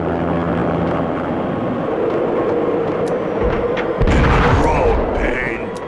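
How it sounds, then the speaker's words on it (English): Armed helicopter in the Max Payne video game, a dense rumbling rotor roar with thumps and booms beneath a speaking voice, swelling louder near the end. "An armed helicopter just landed on the manor grounds."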